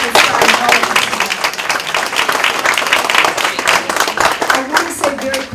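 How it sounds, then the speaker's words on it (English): Loud, close audience applause at a live author presentation, individual claps clearly separated within a lively, uneven burst of many hands, with a voice faintly present near the end. "join me in a huge round of applause for inspiring all of us today"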